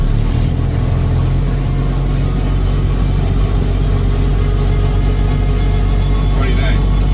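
A rice harvester engine runs in neutral and revs loud and close, a heavy low rumble that holds steady throughout.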